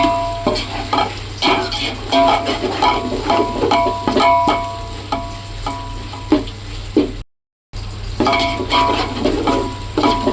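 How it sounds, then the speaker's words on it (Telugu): Green chillies, coriander and mint leaves fry in a pan for a pulao, stirred with a utensil in a busy rhythm of scraping strokes over a constant sizzle. The sound cuts out briefly near the end. "ఐదు పచ్చిమిర్చి కూడా వేసుకోవాలి బాగా వేయించుకోవాలి కొత్తిమీర పుదీనాని బాగా వేయించుకోవాలి"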